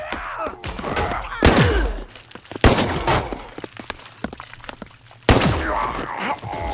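Gunshots in the brawler game Paint the Town Red: a few sharp, loud isolated blasts with cracking, thudding impacts between them, separated by short quieter gaps, with faint voice underneath.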